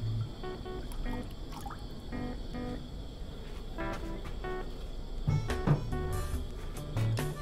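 Fish sauce poured into a pot while making pickled mantis shrimp in fish sauce, heard as soft intermittent dripping and liquid splashes over a faint background hum.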